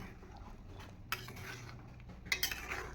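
Chicken pot for a smoky chicken curry being stirred and covered, with a few soft clinks and scrapes of a utensil against the pot and a sharper clank near the end, fairly quiet, no talking.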